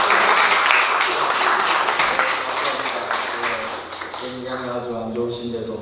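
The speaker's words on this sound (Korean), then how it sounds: "이기성 목사님도 박수 한번 해야 되겠죠?" Applause from a congregation of retired Korean pastors meeting in New Jersey, steady clapping that fades after a few seconds as a voice talks over and past it.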